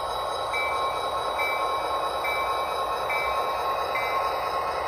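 A model diesel locomotive bell dings in an even, repeating rhythm, about once a second, over a steady low engine hum.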